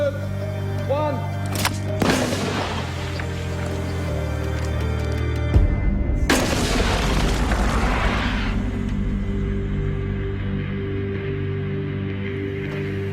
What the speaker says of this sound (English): this one fires the grapnel and rope over 150 feet up the cliffs